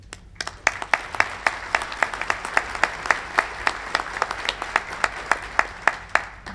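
An audience at a county government's annual state-of-the-county address claps in scattered, fairly regular individual claps rather than a full roar, close and steady throughout.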